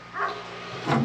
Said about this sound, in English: I can't have a video going on around here without the dogs barking.